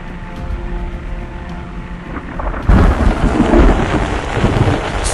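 A heavy thunderstorm with rain roars steadily, then a loud thunderclap breaks in partway and leaves a deeper, denser rumble under the continuing downpour.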